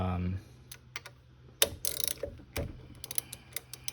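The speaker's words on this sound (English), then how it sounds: "I'm gonna tighten this down, but not too tight though" Ratcheting clicks from tightening a fastener on a Honda SH scooter brake, a few quick bursts of mechanical clicking and tapping close by with a low steady hum underneath, no talking.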